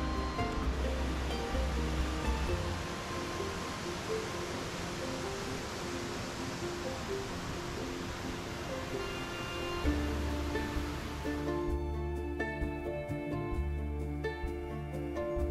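Torc Waterfall on the Ring of Kerry in Ireland gives a continuous broadband rush of falling water, steady and fairly close, with no voices over it.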